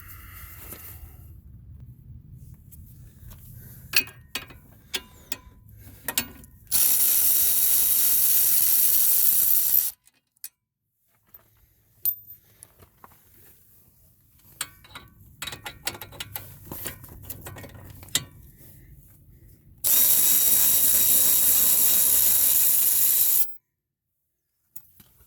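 A 15 mm caliper bracket bolt is worked loose on a Pontiac G6, with rapid ratchet clicking in quiet gaps broken by two loud, sustained rushing bursts from a tool.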